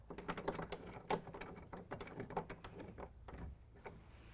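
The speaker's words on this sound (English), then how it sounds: "we're going to take our larger bolt and thread that through the clamp into the insert in the deck rail" A larger bolt threaded through a GatorTrax tonneau cover clamp into a deck rail insert, giving a run of small close metallic clicks and ratcheting taps, uneven in rhythm, with no talk.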